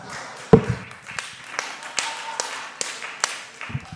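Sparse, scattered claps ring out from a comedy show audience, a sharp first slap followed by a handful of irregular, separated hand claps and light taps with faint murmuring between them.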